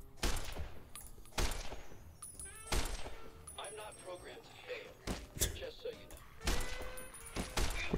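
Robot firing at the player in Fallout: New Vegas, loud separated bursts of gunfire every second or two, with a voice talking between shots.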